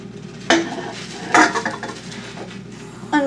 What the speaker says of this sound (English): we're just going to whisk this stuff so that way it's easier to mix in the mixing bowl